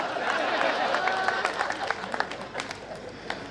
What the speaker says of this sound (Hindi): अब सुमित के लिए तालियां भरपूर देना